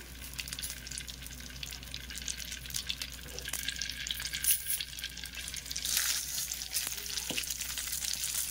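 Dried red chillies fry in a little oil in a pan for an Andhra-style gongura pickle, giving a steady soft sizzle that runs throughout with faint crackles and no talk.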